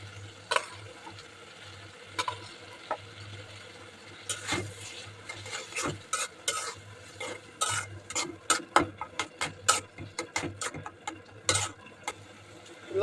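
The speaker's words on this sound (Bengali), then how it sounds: "ভালো করে মশলাটা কষিয়ে নেব।" Spice masala with half-fried onions is stir-fried in a pan: a spatula scrapes and taps against the metal in irregular bursts over a quiet low hum, with no talking.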